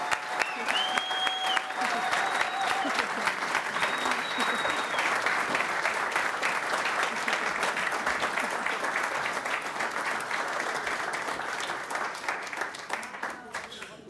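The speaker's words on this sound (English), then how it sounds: "let's give her a big round of applause" A large audience gives teacher Miss Berry sustained, loud applause with dense, even clapping for about fourteen seconds, slowly thinning near the end, with faint tonal sounds early on.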